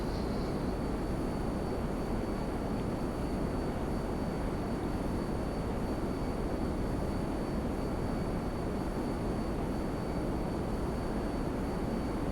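A fighter plane flying in GTA 5 Online video game: a steady, loud broadband jet roar with a thin high whine, continuous and unchanging throughout, with no talk.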